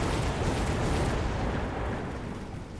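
Incendiary bombs explode in the strategy game Mechabellum, a loud, continuous rumbling roar of blasts and fire that slowly fades toward the end.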